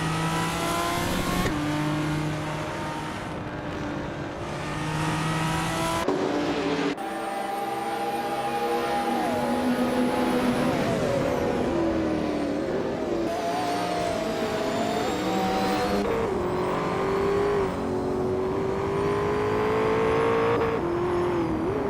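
GT1 class race cars in a racing video game roar continuously, engines revving up and down with shifting pitches as several cars drive close together, loud and unbroken.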